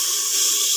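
Water pours into a cooking pot holding onions and tomatoes for a chicken liver and offal curry, a steady bright hiss with no break through the short stretch.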